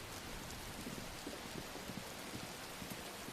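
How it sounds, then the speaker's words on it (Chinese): Heavy rain pours down at night in a residential area, a dense, unbroken hiss of falling water with faint scattered drop impacts, steady and somewhat distant, no voices. "这才过几天啊，就下这么大雨。"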